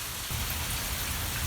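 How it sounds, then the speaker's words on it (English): Steady rain falls outdoors on a homestead on a wet day, a dense continuous hiss of drops on surfaces with no voices. "today it is a rainy day"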